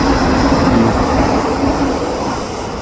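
A Mark 5 SkyTrain rumbles past eastbound close by near 22nd Street station, a steady loud rolling roar with faint rail hum, gradually easing off.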